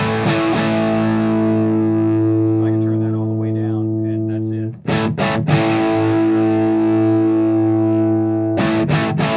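Loud, heavily distorted electric guitar chords through an Orange OR50 amp at full gain and PPC412 cabinet ring out and sustain, with a short break and fresh strums midway and again near the end.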